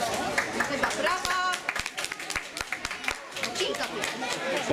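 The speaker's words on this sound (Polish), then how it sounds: "Brawa!" Applause from a village crowd at a spring-welcoming celebration with children's performances, a dense patter of clapping running throughout with some voices and chatter mixed in.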